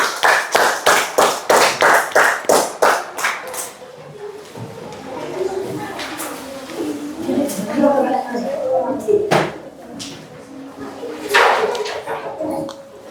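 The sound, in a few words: class of children clapping hands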